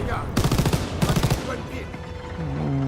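Two quick bursts of rapid automatic gunfire in Call of Duty, close and punchy, followed by a lingering tone and ambient game sounds.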